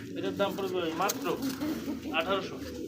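Soft pigeon coos repeat in low rolling bursts at a pigeon market with domestic and foreign breeds, mixed with nearby chatter and other bird calls in a busy, close setting.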